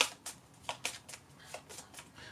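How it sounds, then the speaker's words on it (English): A deck of cards from the Undaunted Normandy board game being shuffled, a series of close, crisp riffles and slaps spaced irregularly with no talking. "so we're going to shuffle up"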